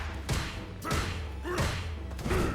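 Sagat's tiger knee landing in Street Fighter 6, a run of several heavy, crunchy impact thuds spaced about half a second apart, punchy and close.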